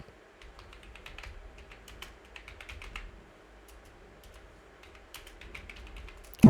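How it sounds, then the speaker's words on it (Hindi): Typing on a computer keyboard while entering a narration in Tally Prime accounting software, a quiet close run of irregular key clicks in short bursts with brief pauses between them. "तो यहाँ से कैश सेलेक्ट कर लेंगे और एक नरेशन लिख देंगे बीइंग कैश पेड"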